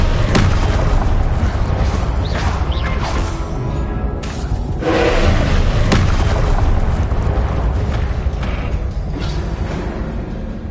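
Fiery Confringo spell blasts in Hogwarts Legacy combat, heavy booms and sharp bursts landing in quick succession over a dense, loud rumble of battle noise and mechanical creaks.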